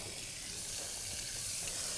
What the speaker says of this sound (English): get frying